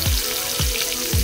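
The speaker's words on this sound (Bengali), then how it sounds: "এবার আমি তেলের ওপর পেঁয়াজ দিয়ে দেবো।" Onion frying in hot oil in a home kitchen after fish has been fried, a steady close sizzle with a few soft thumps or stirs breaking in at regular intervals.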